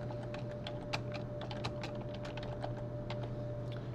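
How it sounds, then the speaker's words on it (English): Rapid typing on a computer keyboard, a near, steady run of light key clicks over a constant electrical hum. "if I was to type in this title"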